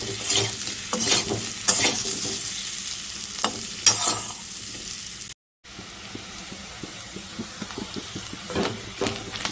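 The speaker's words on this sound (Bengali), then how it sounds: "এখন আলুগুলি ভেজে নিচ্ছি লবণ হলুদ দিয়ে" Potatoes fry with salt and turmeric in a pan under a steady sizzle, with intermittent spatula scrapes and taps, a brief drop-out midway, then a thicker bubbling crackle with no voices.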